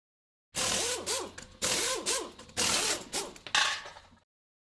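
A power driver sinks truss head lath screws through pegboard on a DIY bookcase charging station, four close, whirring bursts of rising and falling pitch with short pauses between, no talk.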